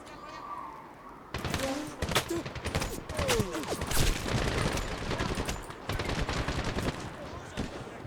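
Rapid bursts of automatic gunfire from the video game Medal of Honor (2010) crackle in dense volleys, with sharp repeated shots and brief pauses between them, under faint background noise.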